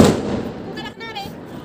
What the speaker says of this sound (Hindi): अरे बुलेट बम